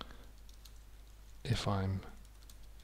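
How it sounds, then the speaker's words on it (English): Soft, faint clicks from a computer keyboard being typed on in a quiet room, interrupted midway by a short spoken phrase. "typing now"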